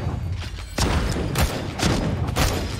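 Repeated gunfire bursts in the martial-arts battle royale game Naraka: Bladepoint, several sharp shots with booming thumps landing at irregular intervals, fairly loud and close, with no talk over them.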